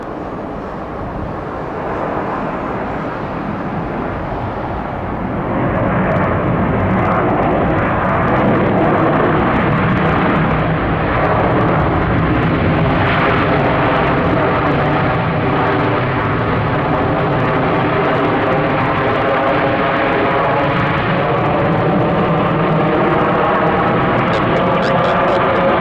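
A Delta Boeing 787 heavy touches down at Atlanta's airport, its engine roar building into a loud, sustained rumble with a broad whine that holds steady throughout, captured from outdoors nearby.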